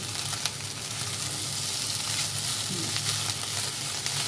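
Seafood fried rice is stir-fried in a Teflon pan, giving a constant, loud sizzle with faint scraping as the rice is stirred and pressed down.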